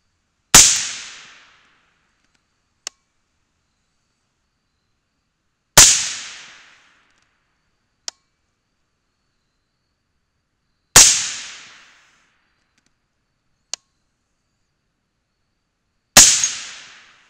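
A rifle fires 70-grain Hornady GMX 5.56 rounds outdoors, four loud sharp reports spaced about five seconds apart, each with a decaying echo tail, plus faint clicks between shots and no talking.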